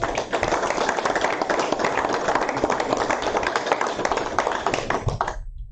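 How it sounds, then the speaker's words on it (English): A small group at a town board meeting claps steadily for several seconds, a dense patter of hands that cuts off abruptly at the end. "can I have a little round of applause?"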